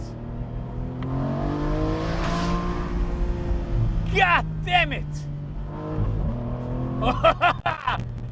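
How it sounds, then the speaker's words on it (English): A 15-year-old Aston Martin Vantage V12 in sports mode pulls out of a corner in second gear, its engine note rising in a long rev under the driver's speech inside the cabin. "Put it into sports mode. 2nd gear, come out this corner. Listen to that."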